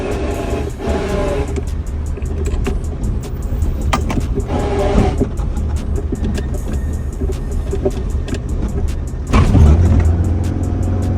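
A 1500hp Toyota Supra sports car with a manual gearbox drives in third gear, its engine droning loud and steady with bursts of acceleration and a surge near the end. No one speaks.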